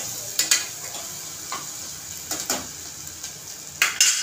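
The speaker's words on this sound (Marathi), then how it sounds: "मस्त आपल्याला मसाला भाजून घ्यायचा आहे." Masala of turmeric and red chili powder dry-roasting in a pan for pea rice, with a steady soft sizzle and several sharp scraping stirs and clinks of a spoon against the pan, close up.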